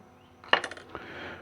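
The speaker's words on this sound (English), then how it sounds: "check ball is going to drop in the pan, but that's all right" A small metal check ball from a GM 4L60e automatic transmission, being torn down, drops into the oil pan with a sharp single clink and a brief rattle that settles quickly.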